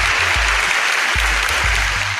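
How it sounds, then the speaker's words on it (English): Sustained applause from a podcast audience, dense and steady at fairly high level for about two seconds, with a low hum running underneath. "let me give you, as I always like to give you your applause"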